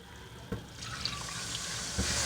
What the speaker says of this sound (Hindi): अब हम इसके अंदर ऐड करेंगे पानी,